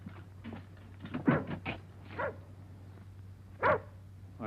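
Dog barking outside at night, a few sharp, fairly faint barks and whimpers spaced irregularly over a low steady hum, with no voices.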